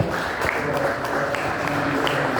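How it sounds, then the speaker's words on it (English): Audience applause for two speakers, Michelle and Brazil, a steady dense clapping wash held at even loudness through the whole short stretch, with no voices over it. "let's give a round of applause to Michelle and Brazil"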